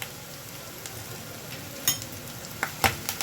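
Green chillies and curry leaves with their stems sauté in hot oil in a pan, a soft steady sizzle broken by a few sharp spatula clinks and stirring scrapes near the end.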